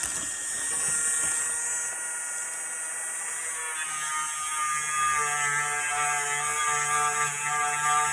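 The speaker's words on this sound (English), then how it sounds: "And with this Dremel, you don't want to have it be all in one spot" A Dremel rotary tool strips paint from a split wood sport steering wheel on a 1968 Pontiac GTO, giving a steady high-pitched whine that holds loud and close throughout, with its pitch shifting a little as the tool moves.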